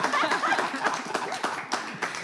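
Audience applause at a live show, a dense, steady patter of many hands clapping close by, with voices and faint laughter mixed in throughout.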